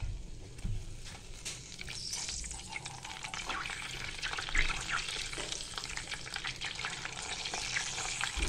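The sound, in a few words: water splashed into hot ghee crackling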